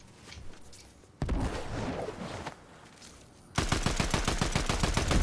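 Fortnite gunfire, a burst of shots followed by rapid, rhythmic automatic fire that grows louder and closer toward the end, with quieter game noise between.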